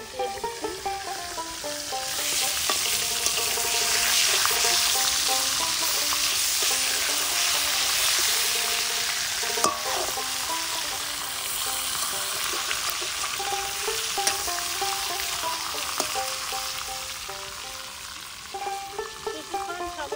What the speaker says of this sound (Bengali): কিছুক্ষণ সময় ধরে মাছের মাথাটাকে ভালো করে ভেজে নিব।